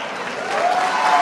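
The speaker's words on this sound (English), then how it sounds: "His assault on the press was met with some applause inside the CIA" Brief, scattered applause breaks out from a crowd inside the CIA during a Trump speech, a soft wash of clapping that swells slightly toward the end.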